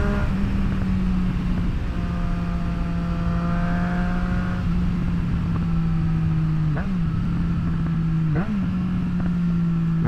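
A 2024 Triumph Street Triple RS motorcycle engine hums at a steady pitch while riding, with a couple of quick blips and pitch dips from manual downshifts near the end, all under constant wind rush.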